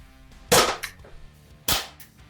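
A gun is fired twice, about a second apart, each shot a sharp, loud, close crack followed by a brief mechanical clack, with no talking.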